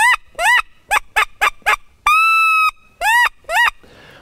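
A duck call blown in short quacking bursts imitating sitting ducks, a series of clipped quacks with one long drawn-out note midway, loud and close.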